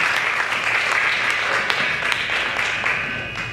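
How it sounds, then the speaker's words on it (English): Dense, loud applause from a large audience at a technology summit keynote, a continuous rush of clapping sustained throughout. "so let's give him a round of applause"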